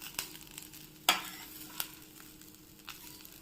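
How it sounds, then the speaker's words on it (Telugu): Curry leaves and drumstick leaves frying in a pan, a quiet crackle broken by a few sharp scrapes and clicks of stirring. "కొంచెము కరివేపాకు తొందరగా ఏగుతుంది కానీ ఏంటంటే మునగాకు కొంచెం లేట్గా ఏగుతుందన్నమాట."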